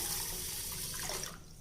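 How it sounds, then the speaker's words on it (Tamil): Water running from a tap into a bowl of raw rice and moong dal being rinsed, a steady close rushing splash that thins out near the end, with no voices. "இதில் கொஞ்சம் தண்ணி விட்டு ஒரே ஒரு முறை களைஞ்சிக்கலாங்க"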